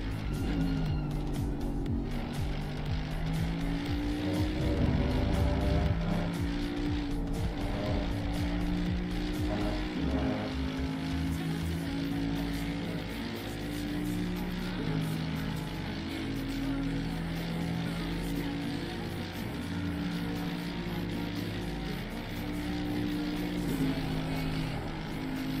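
A race car at Spa in Assetto Corsa Competizione drones along with a loud, steady engine note that rises and falls through the gears, with occasional tire scrub, continuing for the whole stretch.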